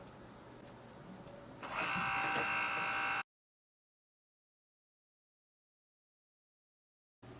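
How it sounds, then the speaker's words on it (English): A Canon Pixma TR7020 inkjet printer powers on with a steady mechanical whir and hum that rises in loudness for about a second and a half, then cuts off into silence before a brief noise returns at the very end. "Switch on the printer, so press the power button."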